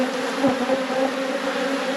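Honeybees swarm around an opened beehive in an apiary, a dense, steady, close buzz with a clear hum that holds through the whole clip without talk.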